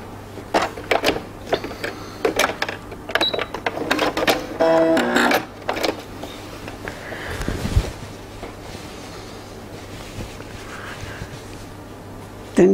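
A sewing machine runs a third line of stitching over elastic at a pant waistband's side seam, in short bursts of rapid mechanical clatter with pauses, close by and fairly loud against a steady low hum.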